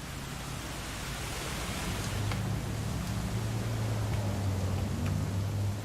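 Steady rain in What Remains of Edith Finch, a soft even wash of patter with faint low droning beneath and a few light ticks, no voices.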